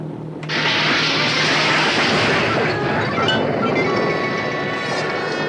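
A torpedo launching from a PT boat's tube: a sudden sharp onset gives way to a loud, sustained rushing roar that holds steady to the end, with no voices.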